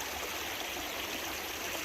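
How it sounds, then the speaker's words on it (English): A wet-weather stream running between two ridges rushes and burbles in a steady, soft, even wash with no other sounds. "listen to this beautiful water running"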